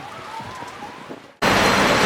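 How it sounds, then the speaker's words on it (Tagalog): Heavy rain pours down at the Aqua Planet water park. A dense, loud hiss of downpour cuts in abruptly and fills the second half after a quieter stretch of ambient noise. "Grabe yung ulan dito guys, malakas."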